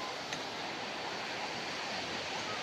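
Large sea waves washing onto a beach on the Baltic coast at Międzywodzie under a red-flag warning, a continuous broad roar of surf at steady loudness, with no talk.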